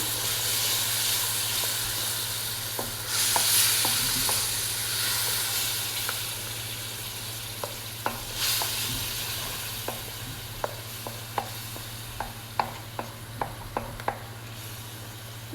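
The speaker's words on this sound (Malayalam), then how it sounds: "നന്നായിട്ടൊന്ന് ഇളക്കുക ഈ തക്കാളി ഒന്ന് നന്നായിട്ടൊന്ന് വെന്ത് വരണം" Tomatoes and masala cooking in a pan for a Kottayam-style fish curry, a continuous low hiss under a steady hum, with scattered stirring taps that grow more frequent toward the end.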